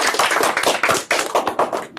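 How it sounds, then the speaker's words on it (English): Audience applause at a spring innovation meetup, a short burst of dense clapping from several people, close and lively, fading slightly at the end. "Well, another round of applause for our virtual team."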